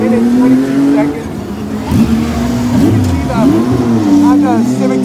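A two-seater IndyCar engine drones and revs as it drives in, with rising and falling pitch sweeps close by, under someone talking throughout.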